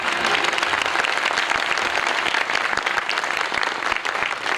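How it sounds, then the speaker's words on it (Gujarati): Sustained crowd clapping fills a Lohana community hall in Amreli during a Gujarati dayro folk programme, loud and dense with no break for the whole stretch. "ન આવે એટલી તાળીઓ થોડાક આવે."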